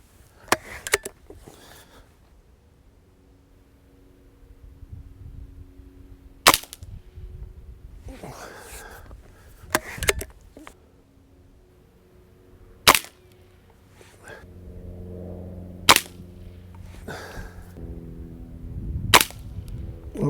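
A Diana AR8 N-TEC .22 air rifle fires about seven sharp, separate cracks spaced seconds apart, each a clean snap against a quiet background with faint low rumble between shots.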